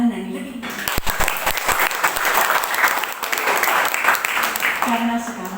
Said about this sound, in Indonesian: Ini perlu tepuk tangan lagi.